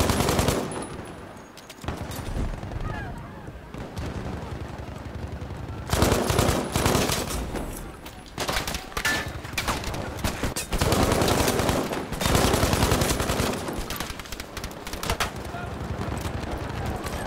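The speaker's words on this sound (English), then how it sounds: "They're shooting the fuck out of me, too." Dense gunfire in the video game Battlefield V, with bursts of automatic weapon fire and shots at close range cutting in and out loudly over game ambience.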